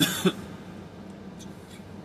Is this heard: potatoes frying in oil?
no